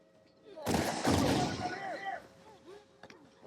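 Gunfire in The Last of Us Part II, a loud close blast with a ringing tail, then scattered fainter shots and game sounds, with people talking over it.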